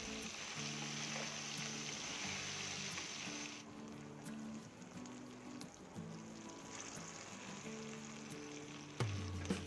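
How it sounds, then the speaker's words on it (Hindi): Pieces of taro (arbi) fry in oil in a pan over a medium flame with a soft, steady sizzle and occasional stirring, heard faintly under quiet background music. "फ्राई मीडियम फ्लेम पे ही करना होगा अरबी को"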